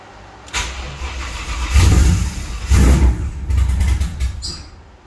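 A 2013-2014 Ford GT500 V8 starts and revs in loud, repeated bursts, with three or four surging blips that rise and fall over a steady rumble, heard close up with no talk.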